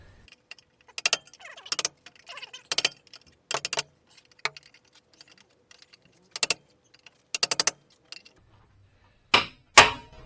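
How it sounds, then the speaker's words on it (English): Hammer blows on a cold chisel cutting rusted metal on a Nissan Z32 300ZX, sharp metallic strikes arriving singly and in pairs with quiet gaps between them, a louder double hit at the end. "I've just got the cold chisel in there, so I can get a little bit of a swing up at this"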